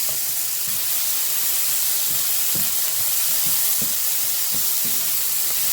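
Peppers and pancetta hiss and sizzle loudly in a hot pan for a crustless quiche, a constant broadband frying hiss with faint low clunks of stirring underneath.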